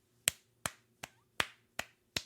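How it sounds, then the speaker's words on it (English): Six sharp hand claps sound alone in a quiet room, spaced at slightly uneven intervals and fairly soft, each one a crisp snap with a short decay. "That was a weird clap"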